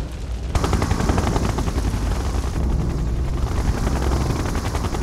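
Siege Chopper helicopter in the Red Alert 2 video game, a loud rapid rotor thumping with rattling gunfire-like bursts that starts abruptly after half a second and continues steadily.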